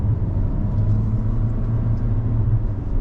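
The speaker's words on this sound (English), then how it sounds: "it is going to really make some noise when you got it under load to get this thing going" A 2025 Toyota Corolla Cross XLE engine works under load while driving, a steady low rumble and drone with road noise held at a constant level throughout, no voices.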